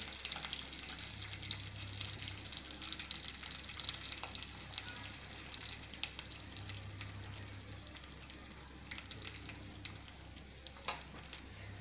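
Handwa vegetable batter, thick like idli batter, spread in a pan on low gas, giving a quiet, steady sizzle and faint crackle throughout with no talk.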